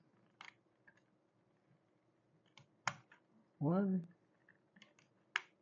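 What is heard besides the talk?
LEGO pieces clicking into the tow truck boom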